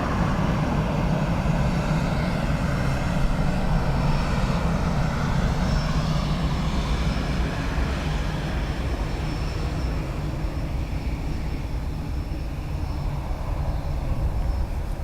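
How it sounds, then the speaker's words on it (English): A Qatar Airways Dreamliner jet taxis or passes at Dublin Airport, its engines producing a loud, steady roar that fills the whole stretch without pause. "Qatar Dreamliner"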